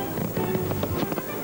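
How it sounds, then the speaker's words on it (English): A Guy Fawkes Night fireworks spectacular in Hertfordshire crackles and pops in quick, irregular bursts, a dense run of bangs heard at moderate distance. "on Guy Fawkes Night, a fireworks spectacular from Hertfordshire"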